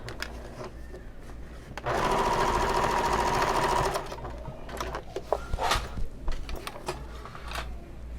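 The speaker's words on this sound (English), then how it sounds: "So I am top stitching towards the base" A sewing machine runs a single steady burst of about two seconds, top stitching near the base of a convertible bag, then stops, leaving quieter handling noises and clicks close by.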